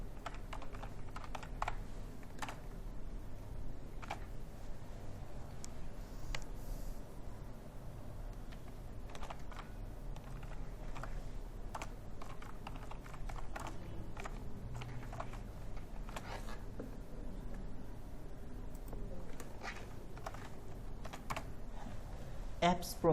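Computer keyboard typing goes on as a continuous patter of light key clicks, close and fairly quiet, with a low background hum and a few louder taps.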